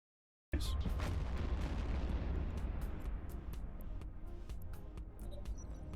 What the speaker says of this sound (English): Wow, I love the looks of that explosion.